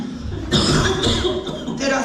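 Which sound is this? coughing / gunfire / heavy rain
coughing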